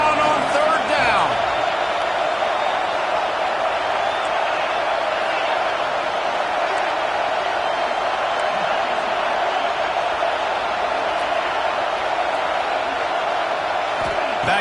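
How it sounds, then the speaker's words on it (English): A football stadium crowd roars for the Florida Gators on third down against Tennessee, a dense, continuous wall of loud cheering and noise sustained across the whole stretch. "This crowd unhinged, trying to make sure the Gators don't back down on 3rd down."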